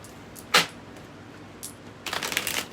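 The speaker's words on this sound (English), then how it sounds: "3 more shuffles." Tarot cards are shuffled by hand: one sharp papery riffle, then after a pause a longer burst of dense crackling flutter near the end. It is close and fairly quiet, with no talking.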